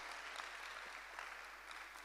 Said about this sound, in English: I think you can applaud Jesus at this time.